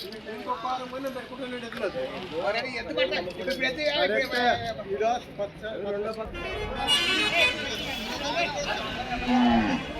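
Bulls and cattle at the Monday livestock market in Pattikonda, including large native Seema bulls, with lowing and moos mixed into a dense crowd of voices, people talking throughout at a steady, busy level.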